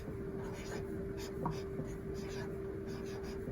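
Pen or marker writing words on paper during a children's character-drawing lesson, a faint steady scratching under a constant background hum, with one brief louder stroke midway.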